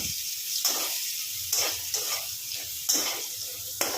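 Amla, Indian gooseberry, frying in a pan over low-to-medium flame for pickle, a soft steady sizzle broken by several sharp stirring scrapes and hissing bursts.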